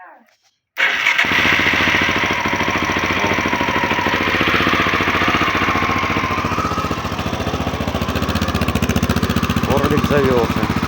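An Orlik motorcycle engine, with battery recharged and carburettor cleaned after months standing, starts abruptly and settles into a loud, steady idle with rapid knocking pulses, close to the microphone; brief voices are heard near the end.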